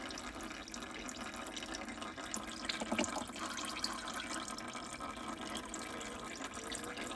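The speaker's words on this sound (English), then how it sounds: "There'll still be some oil in there once you get it out, so you can drain it into your oil pan." Used engine oil from a 2011 Smart Fortwo 451 1.0 MHD drains steadily into an oil pan, making a continuous close trickling, pouring sound with no talk.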